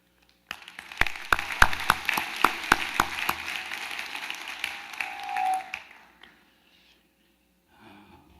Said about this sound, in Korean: 수고하신 성가대와 오케스트라 감사한 마음으로 우리 박수 한번 하겠습니다